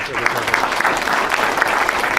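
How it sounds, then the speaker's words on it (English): A round of applause at a governor's bill signing ceremony, a brief burst of steady crowd clapping with a voice speaking briefly over it. "One more round of applause."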